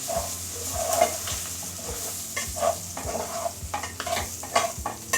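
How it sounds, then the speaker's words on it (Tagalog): Goto, a rice porridge made here with Quaker oats, being stirred in a pot: a steady simmering sizzle under regular scraping strokes of a spoon, close up, with no talking. "haluin muna po natin"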